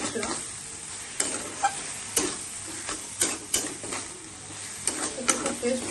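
Boiled soybeans with Kashmiri chili fry in a pan while being stirred, with a soft, constant sizzle and repeated sharp spatula scrapes and knocks against the pan.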